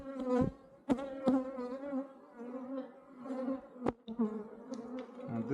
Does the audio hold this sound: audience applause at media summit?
no